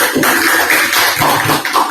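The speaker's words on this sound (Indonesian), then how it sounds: "Tepuk tangan juga buat kita semua" Junior high classroom full of students clapping together, a continuous busy patter of many hands, loud and near, with no speech over it.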